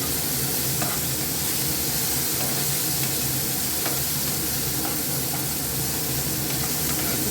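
Spices sizzle steadily in a frying pan while katla fish curry cooks, a dense continuous hiss with occasional stirring clicks and no talk.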